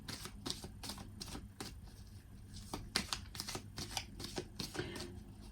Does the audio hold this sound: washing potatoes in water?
no